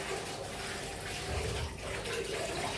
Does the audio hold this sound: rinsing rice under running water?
yes